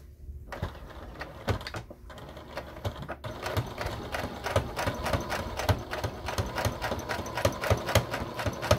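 A sewing machine top stitches an eighth-inch seam on a fabric Christmas stocking, starting after a brief pause and then running in a rapid, steady mechanical patter close to the listener.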